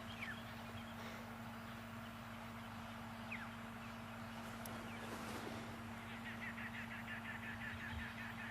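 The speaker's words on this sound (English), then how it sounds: "you might hear the low rumble of diesel generators humming in the background" A steady low hum of diesel generators drones throughout at a safari camp at sunrise. It sits faint and distant under wind noise and scattered bird calls.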